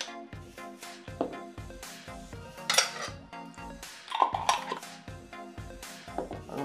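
A metal bar spoon clinks and scrapes against glass and dishware as apple jelly is added while preparing a Jack Daniel's Fire drink, with repeated close knocks and chimes over a steady low background.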